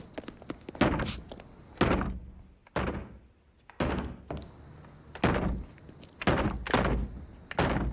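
Repeated heavy thuds on a door at an antiques shop in an animated adventure, forceful bangs in irregular bursts of two or three, close and loud with short echoing decay.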